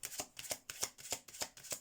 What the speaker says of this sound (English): Let me get some oracle cards for you